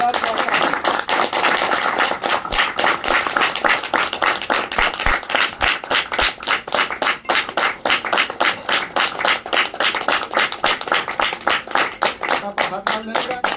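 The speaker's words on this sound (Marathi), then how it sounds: "त्या व्यक्तीचं नाव घेतल्यावर टाळ्या वाजवायला पाहिजे की नाही?" A seminar audience in a Pune hall claws out sustained, rapid, loud applause, dense rhythmic clapping from many hands continuing steadily throughout, close and even with light vocal noise mixed in.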